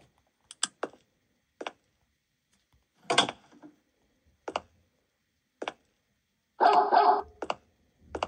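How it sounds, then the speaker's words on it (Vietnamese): A guard dog in a video game barks in short, sharp, separate yelps spread irregularly across several seconds, with one longer, louder bark near the end against near silence. "Firstly, I need to do something about this guarding dog."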